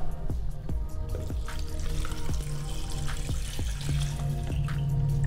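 Water poured into a jug holding pitted, sliced loquats for a sorbet base, a steady running pour over a continuous low motor hum with a few soft knocks.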